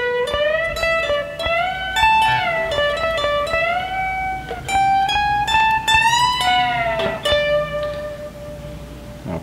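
Electric guitar plays a solo lick over a jam track in G, a fluid lead line of sustained, bent and sliding notes with steady backing underneath, loud and close throughout with no talking.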